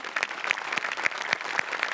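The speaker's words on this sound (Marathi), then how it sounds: "जोरदार टाळ्या" Light applause from a comedy show audience, a small group clapping in quick, uneven bursts, moderately faint and close.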